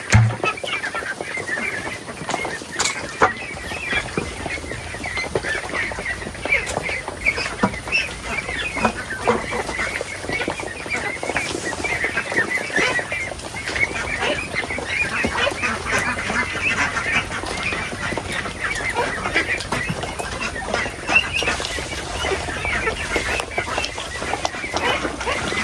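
Domestic ducks on a rural Philippine farm, steady overlapping calls and honking from a flock, fairly close, continuous over background farm ambience with no talking.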